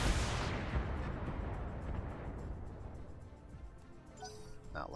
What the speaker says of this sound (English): we're going to apply some missile fire here